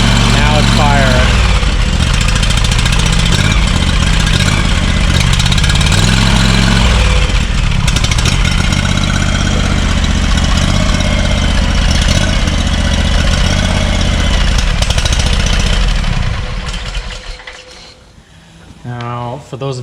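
A Scag Turf Tiger mower engine with an ignition coil problem runs loud and close, a steady mechanical clatter that surges periodically before dropping away near the end, with someone talking over it.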